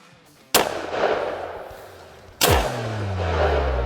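Two loud shotgun blasts of double-aught buckshot fired at a watermelon outdoors, the first a sharp crack followed by a rolling decay, the second about two seconds later with a long low rumbling tail.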